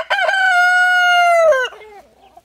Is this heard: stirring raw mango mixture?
no